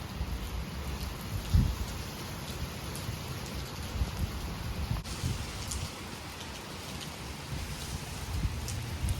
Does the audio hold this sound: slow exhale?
no